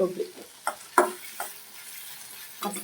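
Grated coconut is stirred and fried in a pan, with quiet, intermittent scraping strokes of a spoon against the metal and a faint sizzle between them.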